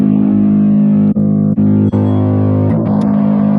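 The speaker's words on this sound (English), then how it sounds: "I always like distorted bass through a 15-inch cab better" Distorted bass guitar through a Busy One preamp into a 15-inch cabinet, a loud sustained growling tone with a few brief note breaks, played alone without talk.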